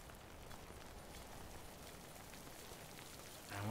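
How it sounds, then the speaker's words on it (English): Steady rain in the video game Death Stranding, a faint, continuous hiss of drops falling over open ground, heard alone with no talking. "the rain's not encouraging"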